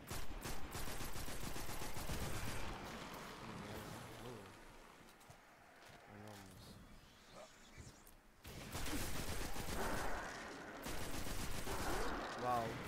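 Rapid gunfire from a weapon in the video game Destiny 2 rattles in dense, sustained bursts, easing off in the middle and then returning loud and continuous.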